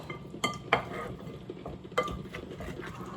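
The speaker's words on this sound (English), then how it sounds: "I'm going to mix that up so everything is coated." Oxtail being stirred in a pot so it is coated, with a few soft scraping clinks of a spoon against the pan over a faint background sizzle, quiet and close.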